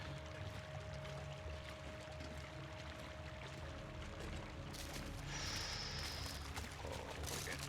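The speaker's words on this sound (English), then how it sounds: "Oh no, do I gotta pass through a waterfall?" Waterfall in the survival video game The Long Dark, a steady broadband rush of falling water filling the whole stretch, continuous and fairly loud, with a faint tonal hum underneath.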